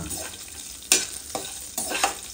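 Crushed cashews roast in a pan with a spoon, three quick scraping stirs rising over a soft sizzle, close and brief with no voices.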